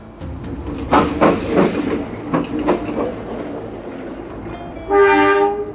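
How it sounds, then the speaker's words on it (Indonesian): Long-distance train passing on the railway from Jakarta toward Cikarang near a level crossing, a loud rumbling, clattering pass with broadband rail noise, followed by a strong tonal horn blast near the end. "sudah ada kereta api jarak jauh yang juga sudah melintas dari arah Jakarta menuju keluar Jakarta ataupun menuju ke arah Cikarang"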